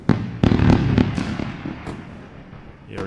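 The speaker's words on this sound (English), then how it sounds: "You got all the fireworks. They've been triggered for some reason." Fireworks sound effect set off inside Quantower trading software during a live NQ futures day-trading session: a quick series of sharp bangs and crackling bursts, loud at first and then trailing off, with one last pop at the end.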